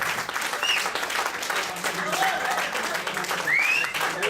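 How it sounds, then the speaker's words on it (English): An audience at a Toastmasters public speaking meeting applauds steadily for several seconds, a sustained wash of many hands clapping, with a few voices rising through it. "Let's give a big round of applause."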